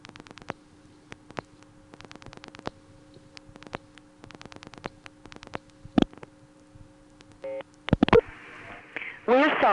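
Touch-tone telephone on a 1970s electronic switching exchange dialing a number: a rapid series of short, evenly spaced beeps, then line clicks and tones at the end.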